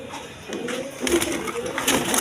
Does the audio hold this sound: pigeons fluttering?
yes